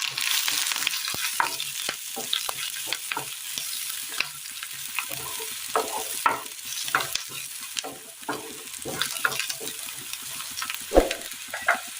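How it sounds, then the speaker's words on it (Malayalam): Mustard seeds sizzle in a pan for a curry while a spoon stirs them. Frequent scrapes and taps sit over a moderate frying hiss, close and fairly continuous. "കടുക്, മൊത്തത്തിലൊന്ന് മിക്സ് ചെയ്യാം"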